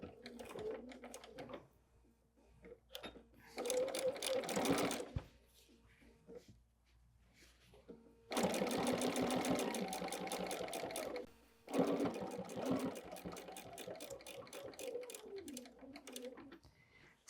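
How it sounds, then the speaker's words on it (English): A sewing machine stitches binding onto the front of a quilt in several separate runs of rapid, even needle clatter, with short pauses and faint handling sounds between bursts. "We'll start sewing right there."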